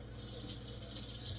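A knife is rinsed under running tap water at a kitchen sink. The stream makes a brief, faint, steady splashing hiss.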